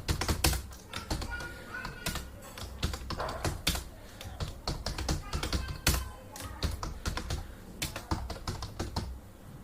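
Rapid typing on a computer keyboard while entering an address into a Microsoft Word 2016 document, a dense run of close, crisp key clicks with brief pauses and no talking.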